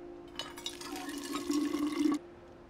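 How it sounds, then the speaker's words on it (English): A water container being filled at a water pump in We Happy Few, heard as a steady pouring, gurgling stream of liquid with a humming tone that swells and then stops abruptly after about two seconds. "Full container from water pump."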